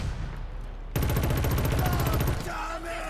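Enemy gunfire aimed at the player in the video game Killzone Shadow Fall, a dense rapid automatic burst lasting about a second and a half over steady game noise.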